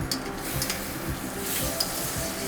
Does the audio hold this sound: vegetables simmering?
yes